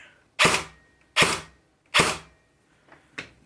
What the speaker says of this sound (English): there's some shots on semi, and then switch to full auto